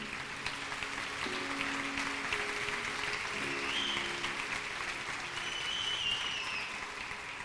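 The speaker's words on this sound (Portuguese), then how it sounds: "Pode aplaudir ao Senhor." A church congregation applauds, giving steady, dense clapping that fills the room at an even level for the whole stretch, with faint background tones and a murmur of voices underneath.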